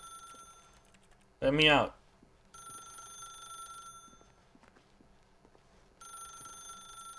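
A telephone rings in the video game The Stanley Parable, with two bursts of bright, electronic ringing separated by a pause. A short spoken line comes just before the first ring.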